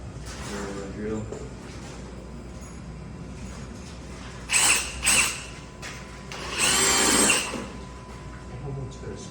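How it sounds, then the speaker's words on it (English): A power drill bores through a wall while a Gen 3 Tesla Wall Connector EV charger is being installed. It comes as two short, loud, close bursts, with quieter background sound and some talk around them. "So we're gonna drill through that and find out where we're at."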